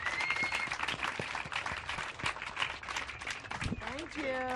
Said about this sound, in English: let's go applaud